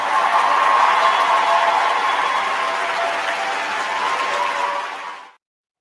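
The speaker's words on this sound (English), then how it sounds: "Let me give her a round of applause" A round of applause, a steady wash of clapping from a crowd that holds evenly for about five seconds and then cuts off abruptly.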